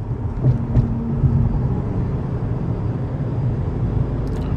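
Constant low engine and tyre rumble inside a compact rental car driving on a road in the USA, steady and fairly loud with no talking.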